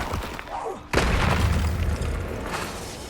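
The Confringo spell explodes in the video game Hogwarts Legacy as a sudden booming blast. Its rumble fades over the next two seconds beneath game sounds.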